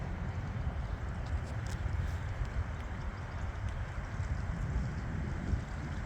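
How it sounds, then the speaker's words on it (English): Strong gusty wind from a thunderstorm outflow boundary sweeping through Valparaiso, Indiana, roaring steadily with broadband buffeting against the microphone and no voices. "Here comes that outflow boundary."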